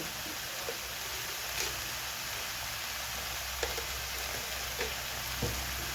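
Taro and okra curry sizzling in a pan as it is stirred, a steady close frying hiss with a few soft scrapes of the spoon, no talking.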